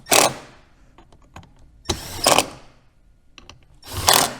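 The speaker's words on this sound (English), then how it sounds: "we'll just come along with the impact" An impact gun drives small Torx screws into a nut plate while fitting a heavy-duty bumper on a Ski-Doo Expedition snowmobile: three short, loud rattling bursts with quieter clicks and handling in between.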